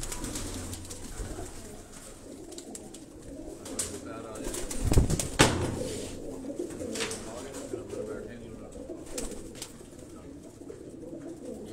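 Flying pigeons cooing in a house loft in Karachi, a steady bed of overlapping low coos with a couple of sharp knocks midway; someone talks over the birds at times.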